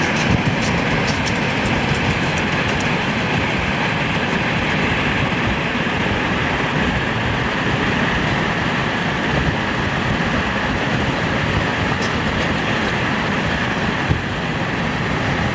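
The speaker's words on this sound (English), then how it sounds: "northbound empty coal train. It was probably on the joint line earlier today. This is a very, very long train." A long, empty coal freight train rolls past close by, a continuous heavy rumble and rattle of wagons with faint clicking of wheels over rail joints.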